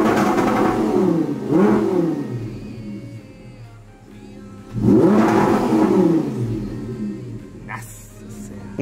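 An Audi R8 with a V10 engine starts up and revs in two strong bursts separated by a quieter idle, with music playing faintly in the background.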